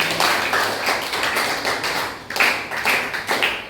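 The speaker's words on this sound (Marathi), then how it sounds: "टाळ्या वाजवा त्याच्यासाठी." Schoolchildren in a classroom clapping together during a maths lesson, a fairly rhythmic run of hand claps at moderate volume with no talking.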